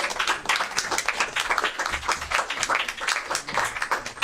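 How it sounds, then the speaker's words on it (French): A crowd claps for the speaker Kalouz at the end of his talk: thick, continuous applause from many people, close and fairly loud, holding an even level throughout. "Vraiment beaucoup d'applaudissements pour le frère Kalouz."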